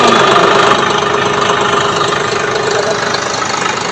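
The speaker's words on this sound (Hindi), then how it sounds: "इस ट्रैक्टर में इतनी खूबी है कि आप ट्रैक्टर देख सकते हैं चल रहा है" A John Deere 5405 GearPro tractor engine idles loud and close in neutral, a steady diesel rumble with an even knocking pulse throughout.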